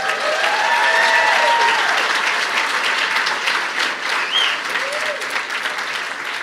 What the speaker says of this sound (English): Clap for all these educators.